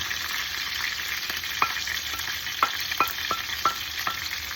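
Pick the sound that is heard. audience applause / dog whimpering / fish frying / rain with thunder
fish frying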